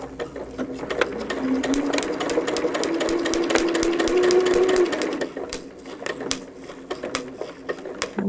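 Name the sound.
sewing machine stitching a quilt block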